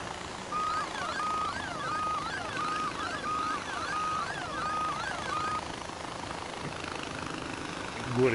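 A helicopter's rotor and engine in the video game Far Cry 4 whir steadily at a moderate level, with a repeating electronic beeping tone over the drone.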